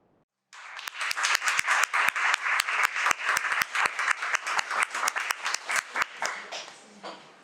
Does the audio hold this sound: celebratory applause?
yes